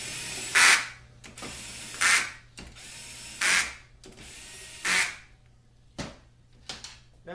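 A small electric screwdriver tightens a bolt on a transmission band clamp during an automatic transmission rebuild, sounding as four loud, even bursts of whirring ratchet clicks separated by pauses, then shorter clicks near the end, with nobody speaking.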